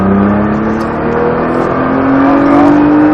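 A 550-horsepower Nissan GT-R engine roars loudly and steadily on a race circuit, its pitch climbing as it accelerates hard, heard up close.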